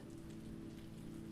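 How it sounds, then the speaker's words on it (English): Steady rain patters outside, an even, soft hiss of drops on surfaces, faint and continuous with no voices. "accompanied by the ever-present whisper of the rain outside"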